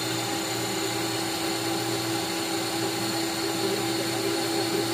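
A Ninja Creami machine spins a jackfruit sorbet, its motor giving a steady, loud whine with a constant hum that runs unbroken throughout.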